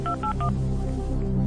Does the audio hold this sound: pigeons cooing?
no